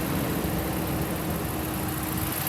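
A 2014 Ram 1500 Crew Cab Tradesman engine idles smoothly, producing a steady, even broadband rumble with no knocks or irregular beats, recorded close and without talking.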